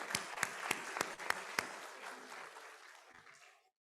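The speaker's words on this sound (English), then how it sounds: "Big round of applause." Applause at a university inaugural ceremony, opening with several distinct sharp claps in rhythm that blend into softer scattered clapping and fade out to silence near the end.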